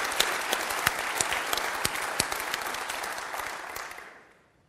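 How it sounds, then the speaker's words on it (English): A conference audience gives warm applause for the sponsors, a thick, even wash of clapping with a few sharp nearby claps standing out before it fades away at the end. "please give a warm applause for our sponsors as well"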